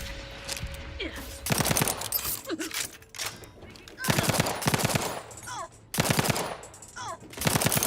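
Rapid bursts of automatic gunfire in The Outer Worlds 2 video game, several loud rattling volleys separated by short gaps, with a voice talking between and over them.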